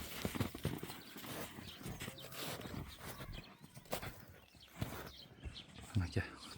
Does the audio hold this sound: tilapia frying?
no